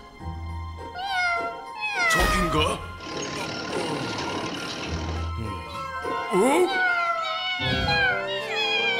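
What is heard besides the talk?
kittens meowing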